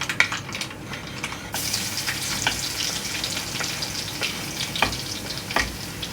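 Garlic hits hot oil in a pan for a Kerala fish curry, and a sudden surge of sizzling carries on as steady frying with scattered pops and no talking.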